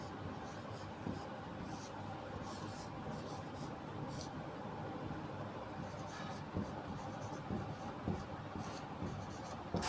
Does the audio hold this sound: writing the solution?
yes